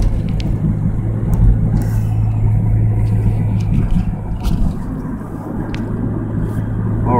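Car driving along a road on a road trip, heard from inside as a loud, steady low engine and tyre rumble that continues throughout.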